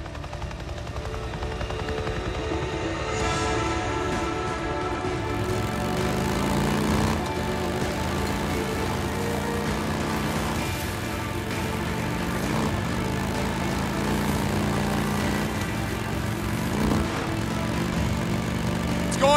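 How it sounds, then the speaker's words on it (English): A helicopter in the Days Gone video game drones steadily as it flies, a continuous rotor and engine roar mixed with game ambience throughout, with no voices over it. "One of our helos is heading towards your position now"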